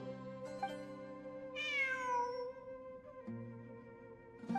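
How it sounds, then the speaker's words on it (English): A cat in the video game Genshin Impact meows clearly a couple of times, with a longer drawn-out mew in the middle, heard over soft sustained game music. "It really is a cat."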